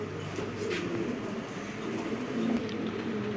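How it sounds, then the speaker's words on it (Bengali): A racing pigeon cooing softly, a low murmuring coo close by against a steady background hum, with no talk. "এটা একটা মিলি রেসার কবুতর"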